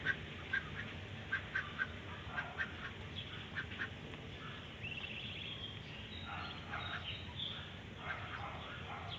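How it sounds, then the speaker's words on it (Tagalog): Ducks quacking in a series of short, fairly faint calls scattered across a steady outdoor background, with occasional louder bursts near the start. "Itik mga boss."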